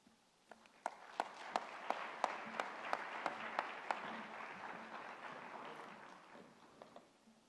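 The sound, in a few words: audience applause at award ceremony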